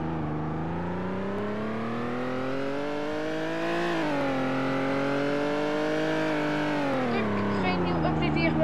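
A car drives along, its engine note climbing and dipping as it accelerates and shifts, heard close and steady from inside or near the vehicle for several seconds; someone speaks briefly over it.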